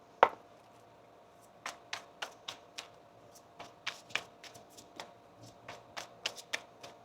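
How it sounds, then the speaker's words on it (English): Tarot cards are shuffled close by in a series of crisp, sharp riffles and taps, spaced irregularly over several seconds in a quiet room. "One more shuffle now."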